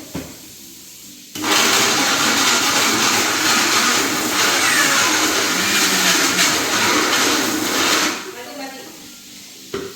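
A kitchen mixer grinder switches on abruptly and runs with a loud, steady whirring roar for about seven seconds before cutting off just as suddenly.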